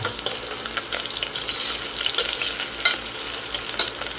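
Garlic sautéing in a pan until brown while cooking laing in coconut milk, a close, steady sizzle with occasional stirring scrapes and no talking.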